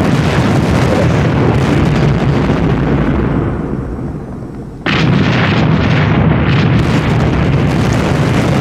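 Artillery bombardment in John Tiller's Sealion '40 wargame: a loud, dense, continuous roar of overlapping explosions and booming shellfire that dips briefly, then slams back to full intensity.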